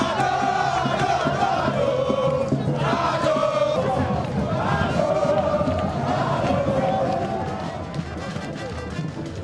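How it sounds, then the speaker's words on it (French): A roadside crowd roars and cheers as two presidents ride past in an open-top convertible, a loud, continuous mass of voices and shouting with a voice talking over it. "ils ont communié avec la foule"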